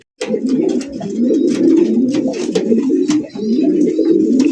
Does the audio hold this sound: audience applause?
no